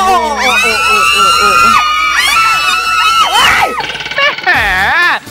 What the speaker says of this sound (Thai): เห็นสาวๆกรี๊ดกันสักขนาดนี้